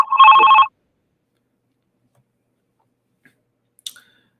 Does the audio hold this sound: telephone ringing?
yes